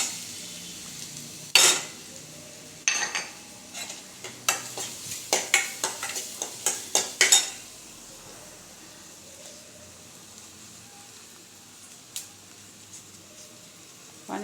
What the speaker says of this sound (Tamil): கடுகு பொரிஞ்சோன்னே இந்த நுணுக்கி வச்ச மிளகு சீரகத்தை போட்டு